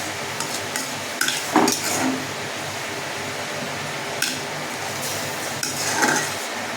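Potato and pointed gourd curry is sautéed in a pan over raised heat, a low steady sizzle under repeated clanking and scraping stirs of a metal spoon, with no voices.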